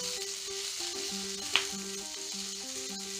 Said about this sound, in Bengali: ক্যাপসিকামগুলো দিয়ে আবার সাঁতলাবো।